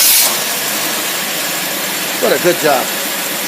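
A car engine fitted with a clamp-on Rochester single-barrel carburetor and a manual choke runs at a steady idle with a broad hissing roar, while a voice speaks briefly near the end.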